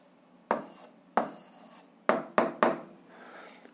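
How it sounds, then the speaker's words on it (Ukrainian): Pen scratching across paper as a maths answer is written down, several short strokes in uneven bursts, close and fairly quiet with no talking. "Записуємо відповідь"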